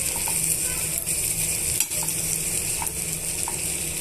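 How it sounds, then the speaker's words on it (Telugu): Potato curry being stirred with salt in a hot pan, a steady sizzle with scraping and stirring strokes throughout, close and even, with no talking. "తగినంత ఉప్పు వేసుకున్న తర్వాత బాగా మిక్స్ చేసుకోవాలండి"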